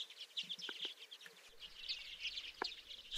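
Common redpolls calling in the Moscow region in autumn or winter, a faint scatter of high twittering chirps from a flock, uneven and somewhat distant, with no voices.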